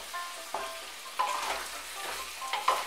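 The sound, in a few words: mung dal frying and stirred with vegetables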